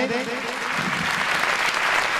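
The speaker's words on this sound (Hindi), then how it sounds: "अगर आप सब एक बार तालियों से मुझे इजाजत दें।" A crowd at a Hindi poetry recital in Pilibhit breaks into sustained applause, a thick, even wash of many clapping hands that runs loud and unbroken throughout.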